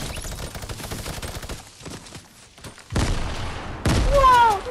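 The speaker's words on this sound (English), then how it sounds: "he's shooting me" Rapid bursts of automatic gunfire in Fortnite, loud and close, coming in dense volleys with a short lull before heavier, louder bursts near the end.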